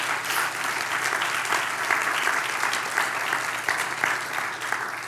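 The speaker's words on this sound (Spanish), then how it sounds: "Así que, pues, dale un aplauso al Señor" Sustained applause from a church congregation fills the room, a dense steady wash of many hands clapping at even loudness throughout, with no voices standing out.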